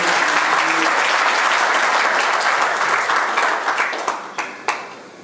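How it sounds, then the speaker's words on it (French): Sustained applause from wedding guests at a Gabonese civil wedding ceremony, a dense steady wash of many hands clapping that gradually thins out, with a few last scattered claps near the end. "Et une fois de plus, vos applaudissements, mesdames et messieurs."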